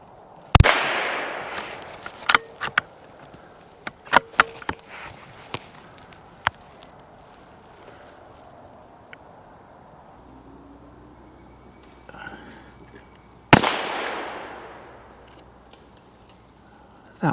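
Sharp .22 LR rifle shots crack out during a swamp squirrel hunt, a few distinct loud reports spaced irregularly across the outdoor scene, with a final strong blast and decaying echo near the end.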